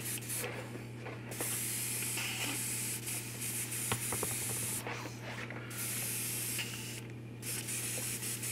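Airbrush spraying lacquer thinner, hissing in repeated sprays each a few seconds long with short breaks between, over a steady low hum.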